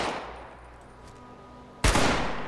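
Rifle fire in the video game Fallout 76, a single loud, sharp shot crashing in near the end after a quieter stretch with a fading earlier report, its roar ringing out to the close.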